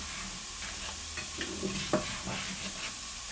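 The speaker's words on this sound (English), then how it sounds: "in the egg pan, we're going to put butter in the pan, coat the bottom, nice and evenly" Butter sizzling and being spread across the bottom of an egg pan for an omelet, a steady close frying hiss with soft scraping strokes and a few light clinks, no voices.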